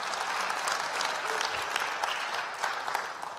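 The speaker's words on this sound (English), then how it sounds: "Somebody giving a hand clap of praise to God." A church congregation claps in praise to God, a dense, steady wash of many hands sustained throughout without a break, with no one speaking over it.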